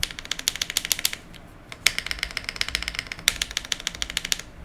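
Rapid clacking keystrokes on a mechanical keyboard rattle close by, keys bottoming out harshly in a dense, uneven stream of sharp mechanical taps with a couple of heavier thocks standing out.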